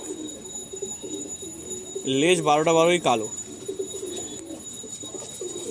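Pigeons coo in a loft, a short burst of loud rolling coos rising over soft background calls and ambient noise while someone speaks briefly.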